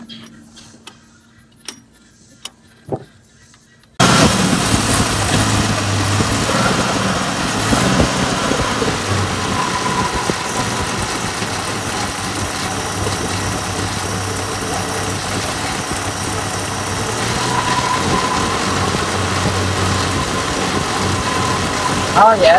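A 1967 Plymouth Valiant engine fires up after a few faint knocks and settles into a steady, close idle on its swapped carburetor, running continuously with a low rumble while people talk over it.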